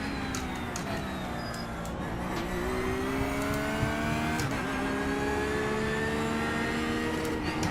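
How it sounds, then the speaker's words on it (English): Race car engines drone and whine in a racing video game, several overlapping tones rising in pitch through gear changes, sounding steady and fairly loud with no voices over them. "I need to turn my car sounds back up."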